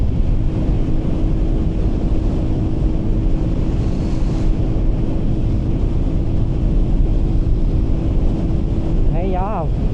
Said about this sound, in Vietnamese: gió rất là dữ nha các bạn